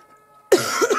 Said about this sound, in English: still a little bit of coughing